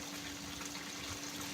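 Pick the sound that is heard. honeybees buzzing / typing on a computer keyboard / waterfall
waterfall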